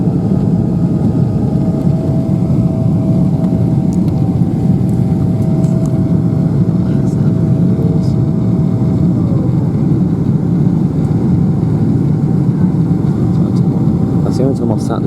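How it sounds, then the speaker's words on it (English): A steady, loud roar of Boeing 777-300ER jet engines during the climb after takeoff, heard from a seat far back in the cabin, with a constant broadband rumble and a faint tonal whine throughout. "I've still been able to hear the engine loud and clear"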